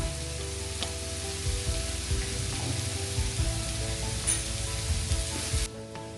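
Potatoes and onions frying in a pan with salt and pepper, a dense continuous sizzle up close with light stirring, holding steady and then cutting off at the end.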